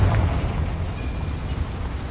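A Confringo fire spell blasts in a mine in Hogwarts Legacy, a deep rumbling burst with a low, sustained roar that holds steady for a couple of seconds at close range.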